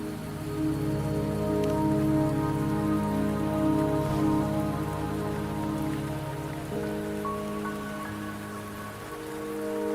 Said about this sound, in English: The rain won't last much longer.